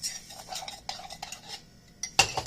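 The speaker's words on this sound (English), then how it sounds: "But you just mix that up really well" A spoon stirs homemade hot chocolate in a pot, a quiet series of light metallic clinks and scrapes against the sides, with a sharper, louder clatter toward the end and no voices.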